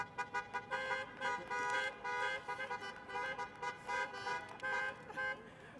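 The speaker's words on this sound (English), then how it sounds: "Let's hear some horns out there." Many car horns honk together at a bridge opening, with overlapping toots and long blasts coming in bursts, loud and sustained across the whole stretch.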